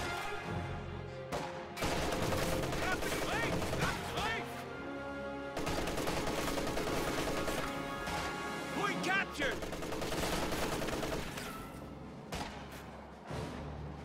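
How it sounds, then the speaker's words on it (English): An MG34 machine gun fires in a video game battle, with dense, rapid bursts of gunfire broken by brief pauses, loud and close in the mix. "Rear echelon troops getting pushed away by an MG34 over here on the left side."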